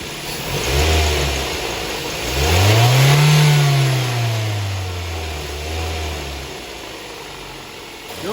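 An old car engine turns over and catches, then revs up in a rising and falling surge before settling back toward a rough idle.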